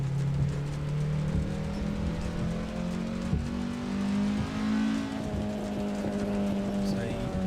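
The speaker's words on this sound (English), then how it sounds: "Gonna shift into a low gear, use some engine braking." A car descending a steep hill in low gear with engine braking, its steady droning engine note rising slowly in pitch through an S-bend, with road rumble underneath.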